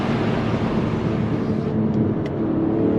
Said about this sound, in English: It's a very raw sound with that exhaust.